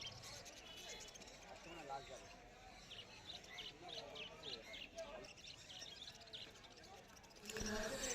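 Conure parrots at a Kolkata street bird market give faint, scattered chirps and tweets beneath someone talking nearby, with crowd noise in the background.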